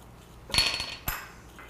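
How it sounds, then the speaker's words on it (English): A whisk stirs flour, sugar, baking powder, baking soda and salt in a bowl for strawberry shortcake, giving two sharp metallic clinks about half a second apart, with a brief rattle after the first. "Whisk it together."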